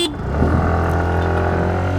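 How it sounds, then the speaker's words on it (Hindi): A loud Hero Destini 125 or TVS Jupiter 125 scooter horn honks steadily over a droning engine, close by and sustained for the whole stretch. "will start with 3 horns"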